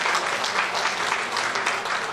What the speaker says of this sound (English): And applause for that.